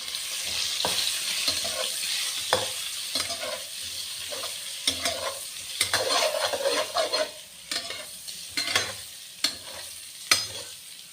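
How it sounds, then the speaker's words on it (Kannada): Eggs frying on a low flame with turmeric and chili powder, giving a steady sizzle broken by repeated scraping stir strokes of a spatula in the pan, close and continuous. "ಲೋ ಫ್ಲೇಮ್ ಒಡ್ಡಿದ್ದು ಮಂಜದ ಪುಡಿ ಖಾರದ ಪುಡಿ ಪಾಡ್ದು ಫ್ರೈ ಮಾಡ್ತಾರೆ"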